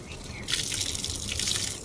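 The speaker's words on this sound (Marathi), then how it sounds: "वरची टाकी भरली की सगळ्या झाडांना पाणी घालून घ्यायचं." Water gushes steadily from a tap or hose while someone waters plants in the morning, a continuous hissing splash that swells louder after a quieter opening, with no voices.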